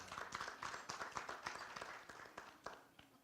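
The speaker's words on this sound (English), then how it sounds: "I didn't think that deserved any clap, but thank you." Small audience at a community awards event clapping, a brief uneven patter of scattered hands that tapers off with a few last claps, with faint voices beneath.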